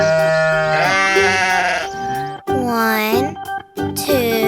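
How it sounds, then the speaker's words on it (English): Sheep bleating repeatedly, loud and close, a series of wavering, harmonic-rich bleats one after another with short gaps, alone without talk. "Sheep."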